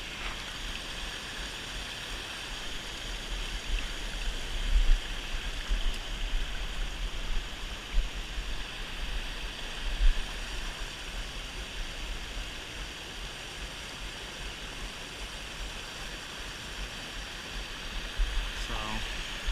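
A river flowing near a campsite makes a steady, broad rushing wash for about twenty seconds, with occasional slightly louder surges and no clear talk on top.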